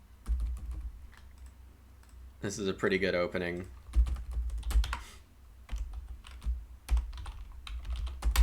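Someone types on a computer keyboard in quick, uneven bursts of clicks, with someone speaking briefly partway through.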